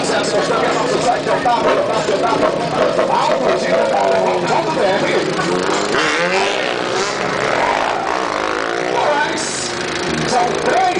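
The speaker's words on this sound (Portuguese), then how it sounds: "Com 3 motos na pista, fazendo Zerinho" Three motorcycles do donuts on a show track at a motorcycle expo, engines revving and whining in overlapping waves under a loud announcer and crowd noise.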